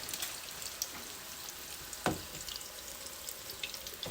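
Chicken burgers searing in a pan give a steady, fairly quiet sizzle with faint crackles and one brief louder knock midway; no voices.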